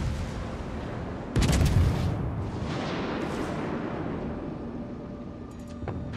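Naval guns boom in the World of Warships video game as a shell hits its target, one heavy blast standing out over constant rumbling battle noise.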